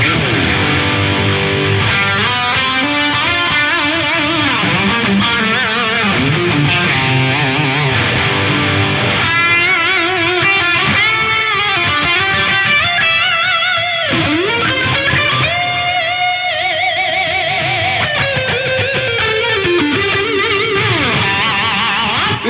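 Electric guitar played through an Axe-Fx III with a heavy effect between distortion and fuzz, thick saturated chords and sustained notes ringing continuously and loud.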